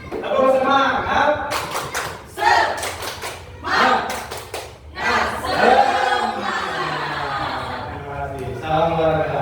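Indonesian audience standing for a rhythmic spirit clap, with patterned bursts of clapping trading off against a leader's voice and crowd chatter, close and lively.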